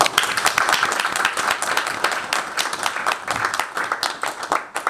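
Applause from an audience at an event during a Congolese minister's visit to Brussels, dense and continuous clapping for several seconds, fairly loud, thinning slightly toward the end, with no talk over it.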